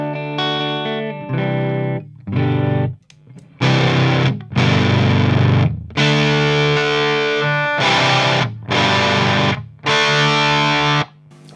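Heavily distorted electric guitar chords through amp distortion, played in loud bursts with short pauses between them, thick and saturated.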